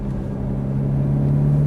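A Ferrari F430 F1 engine drones steadily and climbs slightly in pitch as it accelerates on a track, a close, continuous rumble with no talking.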